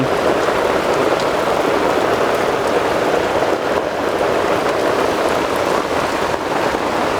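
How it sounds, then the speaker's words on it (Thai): Heavy, steady rain drums on a tent's fabric at a campsite in Suan Phueng, Thailand, a dense constant patter close overhead with no other sounds. "เบาได้เบานะ คุณฝน"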